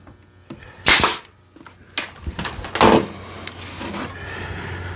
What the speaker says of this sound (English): Shoot a brad there, shoot a brad there. Shoot through both pieces.